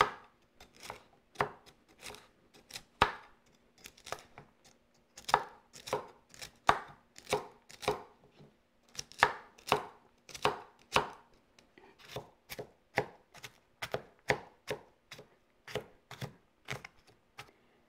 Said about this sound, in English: Now, I gotta chop.